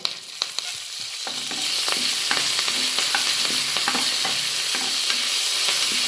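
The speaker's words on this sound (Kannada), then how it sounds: "ಅದರೊಳಗೆ ಫಸ್ಟ್ ಜೀರಿಗೆ ಹಾಕ್ಕೋಬೇಕ್ರಿ. ನೆಕ್ಸ್ಟು ಕರಿಬೇವು." Cumin seeds and curry leaves sizzle in hot oil for jeera rice, a loud, steady frying hiss broken by scattered crackles and stirring knocks.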